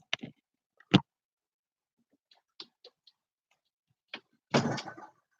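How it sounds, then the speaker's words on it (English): Cabinet doors are shut in a home, giving a few sharp separate knocks and clicks with quiet gaps between them and a louder final clatter. "I'm going to place you back down now so I can shut my cabinet doors."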